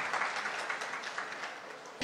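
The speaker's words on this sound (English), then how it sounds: "please give a big round of applause to Mr. Luis, Mr. Lim Sian, and of course, Mr" Applause from the audience at the grand launch event of a smart city housing project, a steady dense clapping from a crowd, moderately loud and continuous throughout the short burst.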